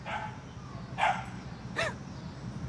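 Dog barking during an outdoor heel-training session, two or three sharp barks a short distance away over steady background noise, with no talking.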